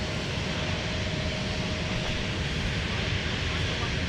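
Boeing 737 jet taxiing at Minneapolis airport, a steady broadband engine roar with a faint whine, constant and moderately distant throughout with no break.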